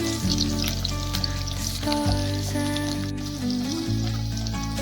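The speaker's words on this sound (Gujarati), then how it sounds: "જીરું તતરી જાય પછી તેમાં ડુંગળીને સરસ રીતે શેકી લઈશું।" Onions fry in hot oil with cumin seeds for chickpea pulao, a loud, dense, continuous sizzle close up with faint crackles throughout.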